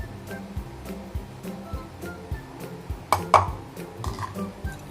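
Chocolate taat dough is mixed in a bowl, giving soft irregular scraping and thudding strokes. Occasional clinks of a utensil against the bowl sound close up.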